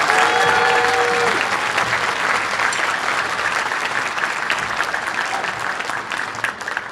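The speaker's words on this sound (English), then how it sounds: "Let's give that a round of applause" A concert audience at an All City Band night applauds the wind ensemble with loud, dense, sustained clapping for about seven seconds. It stays steady throughout and eases off slightly toward the end.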